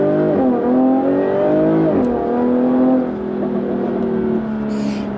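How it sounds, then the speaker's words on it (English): Supercharged V6 of a 2016 Jaguar F-Type S coupe accelerating hard up a road, loud and close, with rising engine tones, a shift dip midway, then steady pull to the end. "let's just see what the acceleration's like then as we go up this road here"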